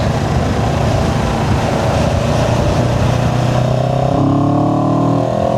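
CFMOTO CLX 700 motorcycle accelerating hard in third gear in eco mode, a loud, steady engine drone whose pitch climbs smoothly and continuously with no talk over it.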